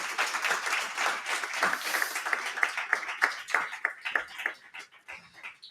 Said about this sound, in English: Perhaps a last applause to all the speakers,